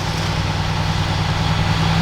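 A Mercedes-AMG GT S engine runs steadily at close range, a low, even rumble with a strong deep hum and no break over two seconds.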